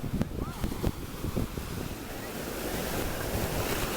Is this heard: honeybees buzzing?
no